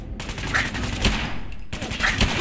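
Rapid bursts of gunfire from a first-person shooter in Fallout 4, loud and continuous with sharp repeated reports over a dense game soundscape.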